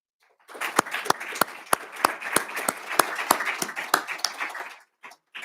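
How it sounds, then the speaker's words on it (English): Applause at a military awards ceremony: a small group claps in a steady, even rhythm for about four seconds, then the clapping stops abruptly with a couple of stray claps. "after a little bit of applause for some remarks"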